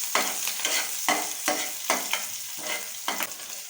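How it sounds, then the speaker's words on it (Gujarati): Chopped green chillies frying in oil with cumin over low heat for kachori filling, loud close sizzling broken into a regular rhythm of stirring strokes, about eight swishes, with no talk. "હવે આપણે આ લીલા મરચા સુધાર્યા તે નાખી દઈશું ગેસ જરાક આપણે ધીમો કરી સાચવી લઈશું"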